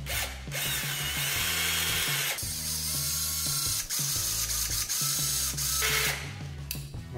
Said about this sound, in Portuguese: marcar o furo e mandar ver